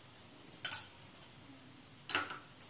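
A spoon scrapes and clinks against a pan while mango sheera is stirred with ghee, in two short metallic bursts separated by a quiet pause.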